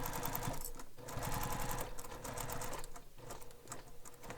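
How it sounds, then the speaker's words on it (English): Sewing machine stitching the side and bottom seams of a bowler bag, a steady close rapid mechanical whir with brief pauses and speed changes, no talking. "Now we're going to sew the sides and bottom together using the seam allowance given in the pattern."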